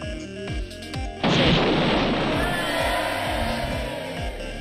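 Missiles launch and burst in an indie planet game, a sudden loud boom opening into a long rushing roar over a repeating electronic music loop, with no talk.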